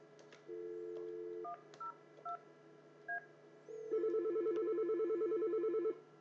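A series of keypad tones dialing an extension on a Yeastar S20 IP PBX beep one after another, followed by a pulsing ringing tone that repeats steadily for a couple of seconds.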